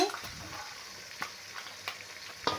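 Ginger garlic paste with tomato sautés in a pan for chicken curry, a soft, faint sizzle broken by a few light clicks and scrapes of a stirring spoon.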